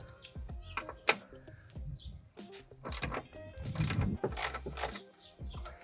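A ratchet wrench clicks while removing 13 mm strut bolts during a coilover install on an R56 Mini Cooper, with quiet, uneven bursts of ratcheting and metallic clanks close by.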